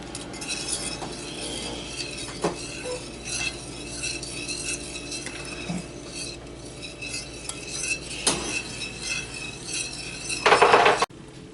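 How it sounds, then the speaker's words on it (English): Milk being whisked into a baked corn batter in a bowl, the utensil clinking and scraping steadily against the sides in a close, continuous stirring rhythm, with a louder clatter near the end. "then you get to whisk it all up."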